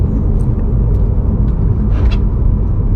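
An old Subaru car on its first test drive, its engine and road rumble droning loudly and steadily from inside the cabin while it struggles to pass 30, with faint brief rattles over the top.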